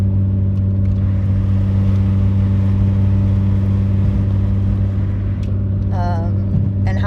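A car engine hums steadily and loudly at idle from inside the pulled-over car, with a low, constant drone, and a voice speaks briefly near the end.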